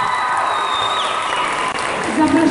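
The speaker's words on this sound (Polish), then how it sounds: "Wielkie brawa dla was." A hall full of people applauds at a school dance tournament in Brzostek, a loud continuous clapping with a few whoops, while a voice speaks over a loudspeaker and a brief tone sounds.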